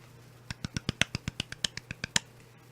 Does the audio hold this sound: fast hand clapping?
yes